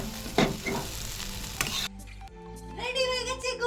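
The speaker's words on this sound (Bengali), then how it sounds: "তুই একটু খালি চাউমিনটা নাড় না" Veg chowmein stirred in a hot pan, sizzling and scraping loudly for a couple of seconds before the frying drops to a quieter hiss, with faint voices in the background.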